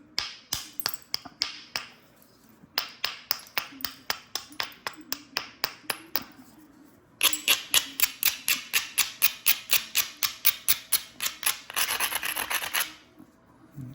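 Repeated rasping strokes of a tool grinding along the edge of a flint stone during knapping, coming in quick regular bursts, close and fairly loud, with a denser faster run toward the end.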